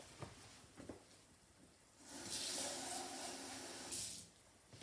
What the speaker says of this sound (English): we're going to pop a bit of water to swill our tin out.